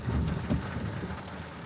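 Steady rain drumming on a car during a driving lesson on parallel parking, a close, even patter with a few heavier bursts and no talking.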